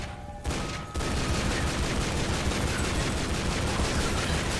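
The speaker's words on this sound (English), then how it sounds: "we're now going to assault rifle this place to hell" Assault rifle gunfire in Tomb Raider: Underworld: a brief quieter lead-in, then an unbroken, loud stream of rapid automatic shots that continues to the end.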